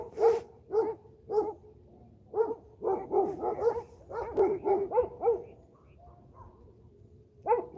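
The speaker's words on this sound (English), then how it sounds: "Yeah, they're barking at the neighbor's dogs." Dogs bark repeatedly in irregular clusters at neighboring dogs, fairly close, with several rapid barks in a row and short pauses between volleys.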